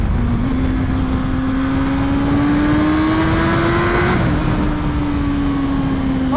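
A BMW HP4 Race track motorcycle engine heard close up on board, holding a loud, steady drone whose pitch climbs slowly, dips briefly near the end, then steadies again.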